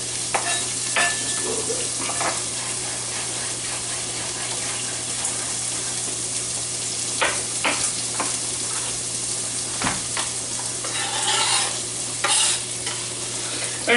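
Onion frying in a pan for carbonara sends up a steady, even sizzle throughout, broken by occasional scrapes and clinks of stirring, while a voice speaks briefly.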